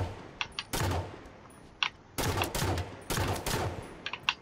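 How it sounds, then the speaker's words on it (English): Halo 5 gunfire comes in three loud close bursts of automatic fire, separated by short gaps with lighter clicks and small game effects. "I just shot him right in the leg!"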